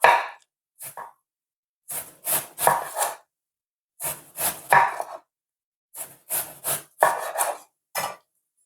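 A knife slices a red onion thinly on a wooden cutting board in quick bursts of rasping strokes, grouped in short runs with brief pauses between them, close and clear with no talking.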